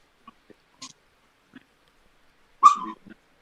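A Chihuahua and Jack Russell terrier mix dog yaps indoors, a few faint scattered clicks and small sounds before one sharp, close yap near the end.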